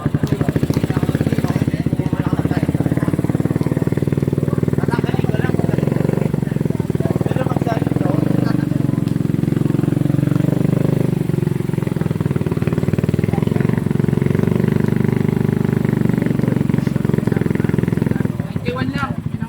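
A Suzuki Raider motorcycle with an Apido exhaust pipe revs close by in a loud, sustained, throaty roar that rises and eases but holds throughout, with people talking over it.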